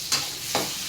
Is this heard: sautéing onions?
yes